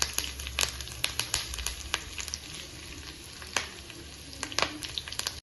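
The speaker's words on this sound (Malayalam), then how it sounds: "അതിൻ്റെ കറിവേപ്പിലയും ഉണക്കമുളക് കൂടി ഇട്ട് കൊടുക്കാം" Curry leaves and dried chillies fry in hot oil for a chickpea curry tempering, giving a close, crackly sizzle with rapid pops and spits and a few louder bursts throughout.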